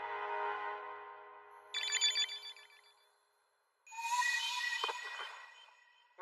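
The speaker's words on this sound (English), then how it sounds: "looks like Mahiru texted you" A phone text-message notification tone chimes in an anime scene: a short bright melodic jingle rings out, a pause follows, then a second burst of ringing electronic tones sounds loud and close with no talk over it.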